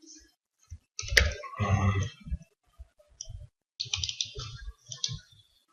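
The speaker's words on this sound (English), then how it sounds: "My 4th click." Sharp computer mouse clicks come in a few scattered bursts during an online account sign-up, close and crisp, with a brief voice briefly heard.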